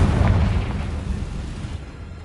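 Confringo fire spell blast in Hogwarts Legacy, a loud booming explosion up front that rumbles heavily and then trails off over about two seconds.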